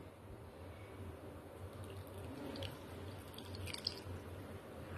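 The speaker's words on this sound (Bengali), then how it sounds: "সামান্য একটু জল দিয়ে" Water poured into a cooking mixture while making a banana-flower peel paste, a soft trickle with faint drips over a low steady background, no voices.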